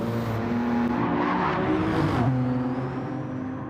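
BMW and Mercedes touring race cars battle at Bathurst, one on hard tyres and one on soft, engines screaming loud and steady at close range, with a sharp pitch drop as a car passes by.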